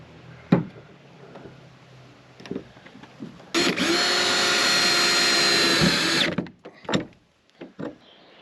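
A power drill drives self-tapping hex head screws into a custom cargo trailer, whining loudly and steadily for about three seconds, surrounded by scattered clanks and knocks of handling before and after.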